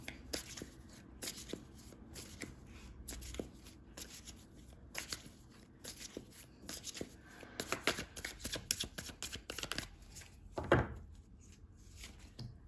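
Tarot cards are shuffled and handled by hand during a reading, giving a steady run of soft riffling, slapping and sliding sounds close up, with a louder burst near the end.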